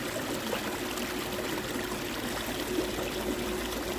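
A brook flows beside a culvert, a continuous soft babbling trickle and gurgle close by, faint but steady, with no voices.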